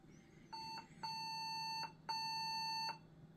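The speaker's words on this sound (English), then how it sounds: "And we're getting the same beep." Three electronic POST error beeps from an old Compaq computer: one short tone, then two longer sustained tones, each loud, clear and close, with a low hum between them.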